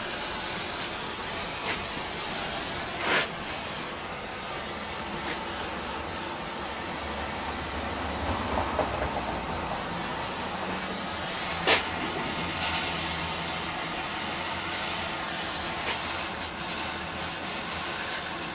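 A torch heating a pipe fitting in a cold winter setting, giving a steady, loud roaring hiss that runs throughout with a few brief sharper pops, with no talking.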